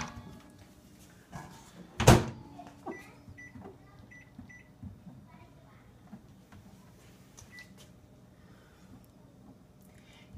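A single sharp thud of a microwave door shutting, followed by faint beeps from the keypad and a low hum in a quiet room.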